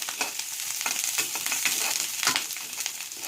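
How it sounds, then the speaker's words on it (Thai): Thai curry paste stir-fries in a hot pan, its continuous sizzle broken by repeated scraping strokes of a spatula, close and fairly loud. "ผัดพริกแกงให้หอมเลยค่ะ"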